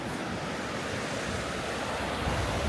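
Waves on an uncrowded beach, a continuous broadband wash of surf with wind buffeting the microphone, steady and moderately quiet with a slight swell near the end.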